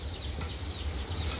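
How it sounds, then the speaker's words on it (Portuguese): A chicken clucking softly somewhere nearby, low repeated clucks in a steady rhythm under outdoor background noise. "A galinha aí, eu pego ela."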